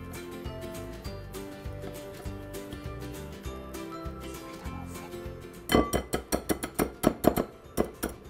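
Erythritol and monk fruit sugar being mixed with flour and egg yolks in a bowl. Sharp, rhythmic clinks of a utensil against the bowl arrive in a quick burst near the end, over background music.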